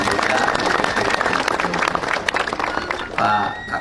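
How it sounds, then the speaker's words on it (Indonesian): An audience at a West Java event applauds in a dense, continuous burst of many hands clapping, fading toward the end as a speaker's voice comes in. "Tepuk tangan."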